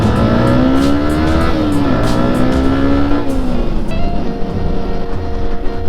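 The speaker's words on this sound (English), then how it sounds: "The wind noise is getting a bit intense." Rushing wind and engine roar on a Yamaha R15 v2 sports motorcycle at speed, a loud, steady blast with a rising and falling engine tone underneath and no talk.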